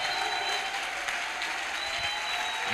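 A church congregation claps and cheers in a steady wash of applause, dense and even throughout, with no voice above it.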